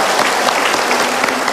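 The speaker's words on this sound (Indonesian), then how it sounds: "Oke, tepuk tangan Mbak" A television studio audience on an Indonesian talk show breaks into loud, dense applause, with a short, steady burst of many clapping hands close to the microphones.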